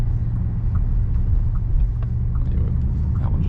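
Engine of a 2025 Bentley GT Speed cruising at low speed, a loud, steady low rumble heard from inside the car with a little road noise and no talking.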